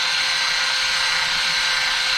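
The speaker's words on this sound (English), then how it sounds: "So all you do is just chuck it up into the drill motor." A drill motor spinning a chucked attachment at high speed, giving a loud, steady, close whine that holds constant throughout.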